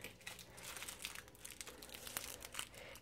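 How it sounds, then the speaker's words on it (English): Peppermint candy wrappers are unwrapped nearby, giving quiet, steady crinkling and crackling plastic rustles throughout. "He's gonna unwrap the candies"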